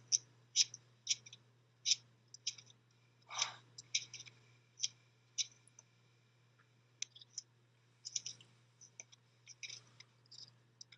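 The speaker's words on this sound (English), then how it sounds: "So I can shuffle." Soft, crisp card-shuffling clicks come in quick irregular bursts over a faint steady hum, close and quiet, with no voices.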